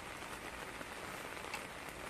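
Steady rain patters on a surface, even and continuous hiss with a few faint drops standing out, no voices.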